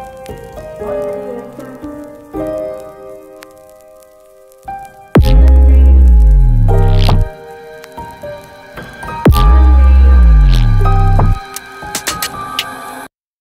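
Soft, mellow piano opens a remix intro, sparse chords at first before deep bass-heavy swells and synth layers surge in twice, loud and full, then thin back out.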